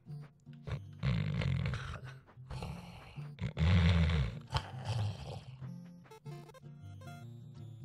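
Snoring in the video game The Hex, a few loud, low rasping breaths with a growling, animal-like rumble, rising and falling in slow drawn-out swells with short pauses between.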